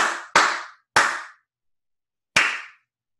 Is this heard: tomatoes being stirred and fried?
no